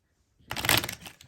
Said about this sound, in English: I'm going to go ahead and give it a shuffle